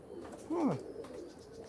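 A single soft pigeon coo, close and clear, rising and falling briefly over a quiet background in a pigeon loft.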